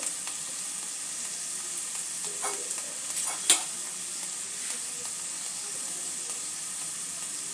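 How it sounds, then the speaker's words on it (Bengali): Poha ingredients with peas fry in a pan with a soft, steady sizzle, broken by a couple of faint clinks of a stirring spoon; the sound stays quiet throughout and no one speaks. "সব কিছু সামান্য একটু ভাজা ভাজা করে একটু সেদ্ধ করে নেব"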